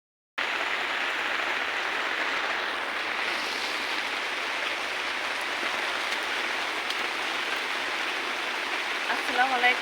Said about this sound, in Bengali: আমাদের এখানে তো রহমতের বৃষ্টি হচ্ছে, ঝড় হচ্ছে না